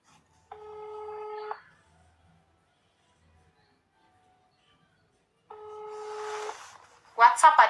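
A telephone ringback tone sounds on an outgoing call to a restaurant from a roadside, two long steady buzzing rings separated by a pause, followed by a brief burst of speech at the end.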